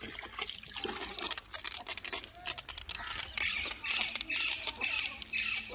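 Water splashing from a hose pipe while a buffalo is bathed outdoors on a summer day, a continuous watery rush and trickle with faint bird squawks and a voice in the background.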